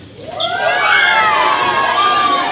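A room full of children shrieking and cheering for the Dodgers during a community visit, loud high-pitched shouting that swells after a brief quiet moment and stays intense.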